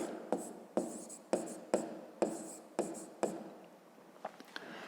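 A pen writes by hand on paper while working a maths exercise, with about eight distinct scratchy strokes in a quiet room, each starting sharply and fading, followed by a few softer taps.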